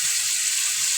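Marinated prawn fritters frying in hot oil, a dense, even, close sizzle with no pauses.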